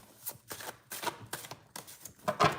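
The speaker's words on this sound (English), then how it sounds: "Why is it making me shuffle so much?" Tarot cards are shuffled close up in a rhythmic series of about six papery, slapping riffles, one every half second or so, with no talking.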